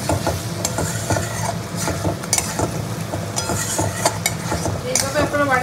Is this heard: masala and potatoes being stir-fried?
yes